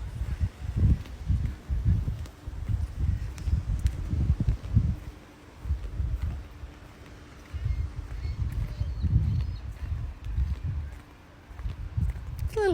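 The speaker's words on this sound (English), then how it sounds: "It's a little breezy today." Breezy wind buffets the microphone beside an oceanfront pool in Mazatlán, Mexico, in low rumbling gusts that come and go throughout.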